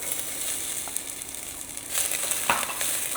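Onion sizzles and crackles in hot oil with garlic in a pan, a steady close frying hiss that brightens with a louder burst of sizzling partway through as the onion goes in.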